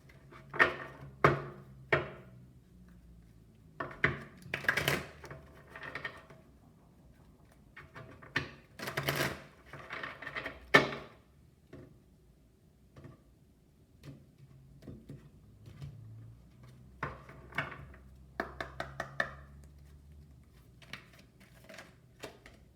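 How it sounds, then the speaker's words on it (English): Large tarot cards are shuffled in bursts of crisp riffling and soft slaps, with pauses and small taps between, close and fairly quiet. "these big cards be something to shuffle."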